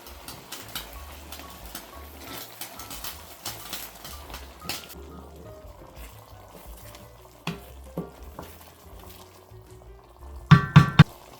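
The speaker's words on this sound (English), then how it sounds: "A ladle of mushroom stock goes in. Stir." Quiet kitchen sounds as a ladle of mushroom stock is added to risotto rice and stirred, with soft liquid sizzling, scraping stir strokes and a few clinks of utensils near the end.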